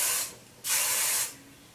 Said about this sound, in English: Now spray it.